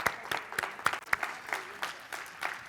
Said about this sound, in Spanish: Un placer, un aplauso.